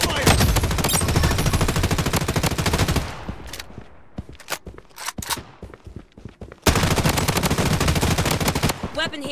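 Rapid automatic gunfire in the mobile shooter Project Bloodstrike, loud dense bursts that drop to scattered single shots mid-clip before heavy firing resumes; game voice callouts sound between bursts.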